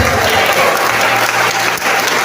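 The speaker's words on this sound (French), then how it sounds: "Et donc les acclamations à Jésus." A church congregation applauds and acclaims Jesus, a dense, loud wash of clapping with crowd voices mixed in, steady for the whole short stretch.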